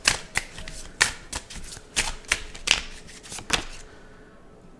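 Divine Feminine healing oracle cards are shuffled up close in a quick series of crisp riffling bursts about every half second, then the sound stops, leaving quiet at the end.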